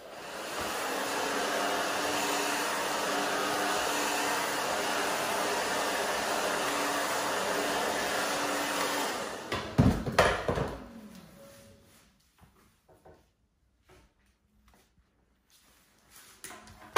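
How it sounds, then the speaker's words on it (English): A hair dryer roars steadily and loudly for about nine seconds while blow drying hair, then cuts off, leaving faint handling clicks and rustles in a quiet room. "I'm going to blow dry right here"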